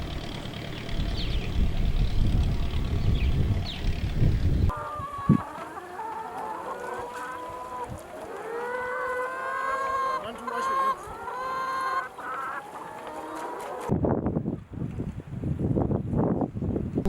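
Chickens from a trial of three breeds cluck and call on a poultry farm, a dense overlapping chorus of clucks and squawks with livelier calls in the middle, steady background noise throughout and a louder rumble near the end.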